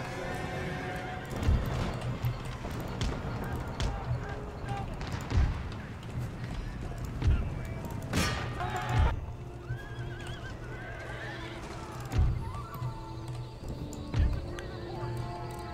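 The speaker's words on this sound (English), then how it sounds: "cavalry running in on the flank" Cavalry horses in the video game Empire: Total War gallop with steady clip-clop hoofbeats and repeated whinnies, a dense battle din beneath a voice talking throughout.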